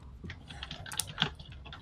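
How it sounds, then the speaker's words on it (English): Rapid clicks of fingers typing on a computer keyboard, close and fairly faint, in an uneven burst of keystrokes with no talk. "you done typing yet?"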